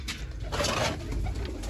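Pigeons coo continuously inside a loft, a soft rolling murmur of several birds close by, with no talk over it.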